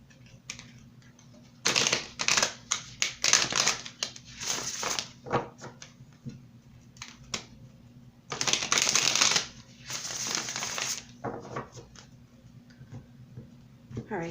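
Tarot cards are shuffled and pulled in bursts of crisp riffling and flicking, fairly close and loud, separated by quieter pauses with soft handling sounds.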